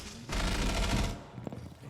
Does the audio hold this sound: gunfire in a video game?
yes